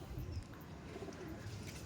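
Domestic pigeons coo softly and continuously, a low, steady burbling throughout, fairly faint and with no voices.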